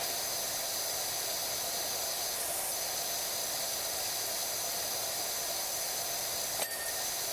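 A pressure washer sprays steadily in the game Power Wash Simulator 2, a constant loud hissing jet that runs unbroken throughout, with a brief click near the end.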